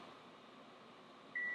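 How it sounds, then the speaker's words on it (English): A convection microwave oven hums quietly and steadily, then a single clear electronic beep sounds near the end as the oven starts up. "you can cook 8 hamburgers at one time in your convection oven microwave."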